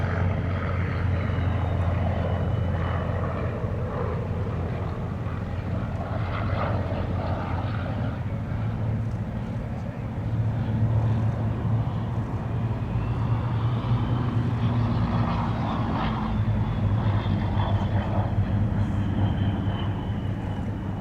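A Spitfire Mark 1 fighter flies past at a Duxford Battle of Britain air show, its steady engine drone loud and continuous with a strong low rumble throughout.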